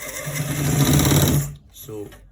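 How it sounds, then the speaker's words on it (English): Sewing machine stitching a trouser right front pocket, a close steady whirring hum for about a second and a half that stops abruptly, followed by a brief voice. "So we are stitching a right front pocket."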